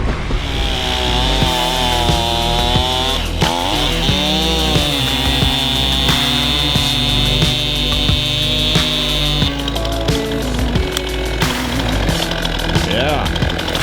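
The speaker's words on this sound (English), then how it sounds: "had multiple chainsaws gassed up, sharpened, and ready to go" Chainsaw cutting through a big fallen tree in a snowstorm on a steep mountain road, its high whine steady and loud for a long stretch, bogging and revving as it bites, with a voice heard briefly.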